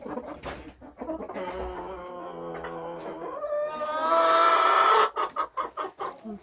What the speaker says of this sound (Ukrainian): Вон півень кохінхін покривав якраз курочку